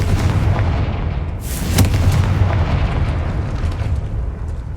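The Confringo fire spell goes off in a Harry Potter video game as a single loud, close explosive blast with a sharp crack, then a rumbling low-frequency tail over ongoing game ambience.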